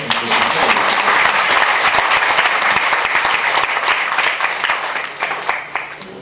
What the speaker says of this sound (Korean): 우리 이 시간 우리 모두를 위해서 한번 박수 한번 칠까요?